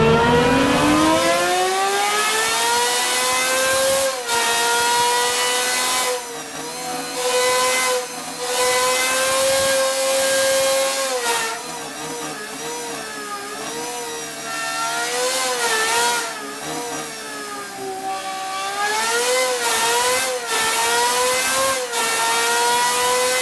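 A naturally aspirated V12 car engine revs hard toward 10,500 RPM, its loud, sustained howl rising and falling in pitch through repeated throttle blips over about twenty seconds, close and alone with no talk.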